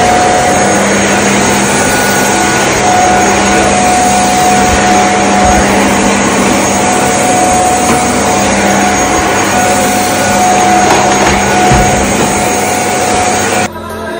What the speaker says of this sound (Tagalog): Ayan, nag-vacuum na tayo guys.